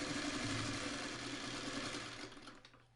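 A sewing machine runs steadily while stitching a seam on a traditional quilt block, a close mechanical whir that slows and fades to a stop at the end.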